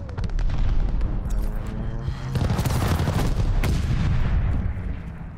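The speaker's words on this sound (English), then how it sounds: "Allied airstrike coming in hot." An allied airstrike in Call of Duty: Vanguard on a Hardpoint match at Tuscan pounds continuously, a dense run of booming explosions and rapid gunfire rolling close and loud for several seconds.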